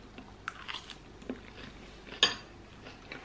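Chicken salad with lettuce, sweet corn, beetroot, radishes, cucumber and peppers eaten close up, with soft crunchy chewing and a few light clicks of cutlery against a dish.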